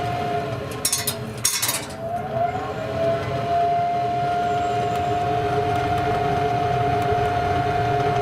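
Cooling fan of a Weber Smokefire EX6 pellet smoker running a 600-degree burnoff, a loud steady whining hum with a sustained tone, briefly interrupted by a couple of clattering bursts near the start.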